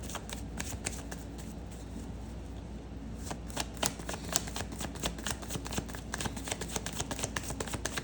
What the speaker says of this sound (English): I'm shuffling these cards like hell.